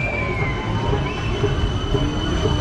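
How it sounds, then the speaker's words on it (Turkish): A tram rolls along a city street in Vladikavkaz, Russia, with a steady rumble of wheels on rail and a thin, drawn-out squeal from the wheels, continuous and fairly close. "Bu caddeden arkadaşlar sadece bu şekilde tramvaylar geçiyor."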